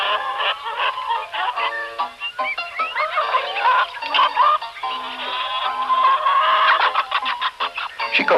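A flock of chickens in a farm chicken coop clucking busily and continuously, with overlapping calls and occasional squawks, fairly close and steady throughout.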